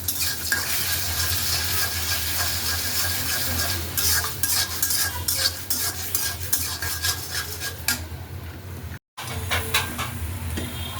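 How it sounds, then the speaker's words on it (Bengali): Three eggs frying in oil give a steady, close sizzle and crackle, mixed with light stirring and utensil clinks, continuing with a brief dropout near the end. "আমি 3টা ডিম শুধু তেলের উপরে ভাজিয়ে নিতেছি"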